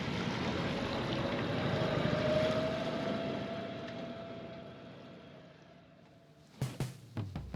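A sailing catamaran motors under engine power, a steady low drone that swells and then slowly fades, followed by a few sharp knocks at the end.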